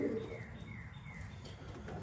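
A young pigeon, one of this year's babies, gives a soft, low coo close by over faint background noise.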